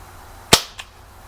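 A single sharp shot from a Gamo MP9 blowback CO2 airgun, a crisp loud crack followed by a softer mechanical click of the blowback action a moment later, with no talking.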